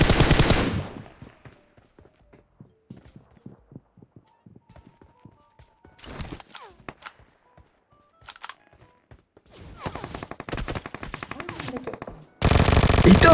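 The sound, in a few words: gunfire from a video game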